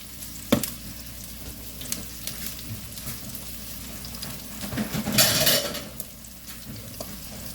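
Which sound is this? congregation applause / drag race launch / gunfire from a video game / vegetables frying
vegetables frying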